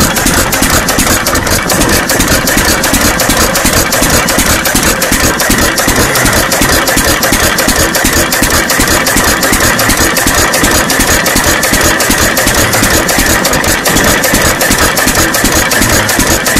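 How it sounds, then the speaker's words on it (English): Pink-painted John Deere 1 1/2 hp Type E hit-and-miss engine running steadily, with a loud, rapid, even chugging beat that fires almost every stroke. "Just the old John Deere that I done painted pink"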